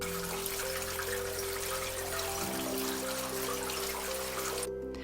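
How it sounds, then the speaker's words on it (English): Water trickles and splashes steadily through a rain chain in the rain, a continuous close wash of drips with a faint tonal hum running underneath. "You can even hear them tinkle in the rain."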